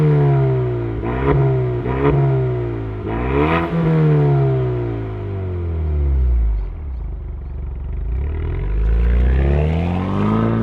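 A 2026 Ford Mustang EcoBoost turbocharged engine cranks to life, then revs in several sharp rising bursts before settling into a steady, throaty idle with slow swells, close up and alone.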